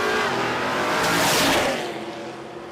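Drag race pass at Willowbank Raceway between an HQ Holden Premier and a Mustang, loud broadband engine roar swelling to a peak mid-clip then fading as the cars pull away, with a faint squeal.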